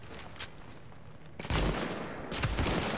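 Gunfire rings out in the video game The Division: a single shot, then two dense bursts of rapid fire, loud and close, with no talk.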